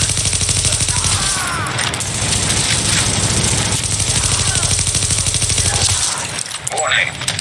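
Continuous automatic gunfire rattles through a firefight in The Division, dense and loud for most of the stretch, with game voices and sounds layered over it.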